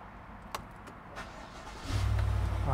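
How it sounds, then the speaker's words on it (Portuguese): A minivan's engine turns over and catches after a few faint clicks and knocks, settling into a steady low idle up close. "Vamos ligar esse carro aí."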